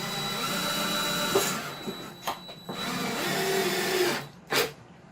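Power drill whirring as it drives a screw into a 2x4 board, a steady motor drone with short bursts and pauses, close and fairly loud, with no talking.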